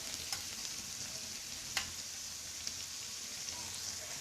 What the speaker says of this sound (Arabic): من بعد كنضيف سيداتي هذيك الباميه ديالي اولا الملوخيه ديالي، كنقليها مع هاد العناصر